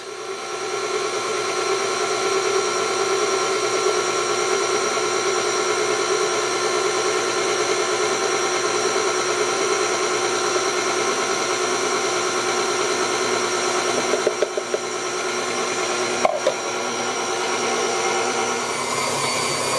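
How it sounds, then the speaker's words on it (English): A stand mixer kneads sticky English muffin dough, giving a steady, loud motor whir with a constant hum that runs unbroken throughout, with a couple of brief clicks near the end. "then I'm going to turn the mixer on, let that begin to knead that in"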